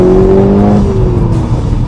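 A Seat Leon's 2-litre turbocharged petrol engine, shared with the Golf R, revs loud and close, with a steady droning tone that shifts pitch slightly as the engine settles, heard alone without talk.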